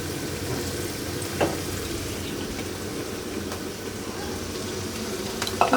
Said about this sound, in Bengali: ধুয়ে আমি এটা আগে ভেজে নেব, টেলে নেব।